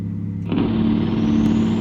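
A heavy truck in American Truck Simulator, a Peterbilt 389 hauling a Rogers lowboy, rumbles with a deep engine-brake chatter that swells loudly about halfway through and holds steady.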